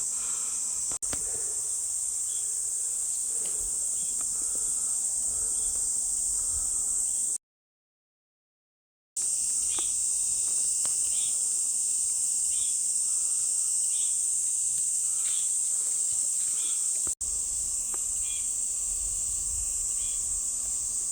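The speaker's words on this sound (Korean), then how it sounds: "매미 소리가 잘 들리는 산으로 왔습니다" A steady, high-pitched drone of cicadas in a summer mountain forest in Gangwon Province, Korea, fills the air without pause, loud and constant, with a brief silent gap partway through.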